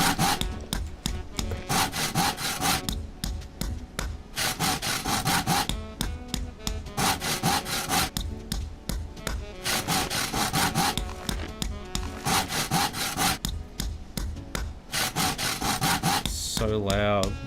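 Workbench crafting in the game Zompiercer, loud repeated rasping sawing and rubbing strokes on wood in bursts with short gaps, ending in a different tool-like clatter, heard alone.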